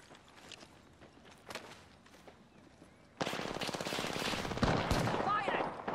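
Apex Legends gunfire: faint distant shots at first, then loud rapid automatic fire bursts in from midway and continues, with a voice talking over the opening part.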